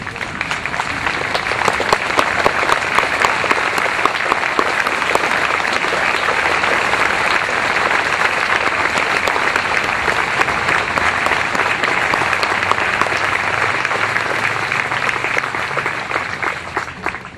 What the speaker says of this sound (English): Let's all stand and give them a round of applause.